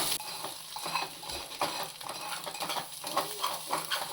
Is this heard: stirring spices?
yes